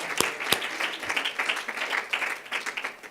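A small audience gives a short round of applause for the Honduran ambassador, with a few loud separate claps followed by lighter, uneven clapping at moderate volume.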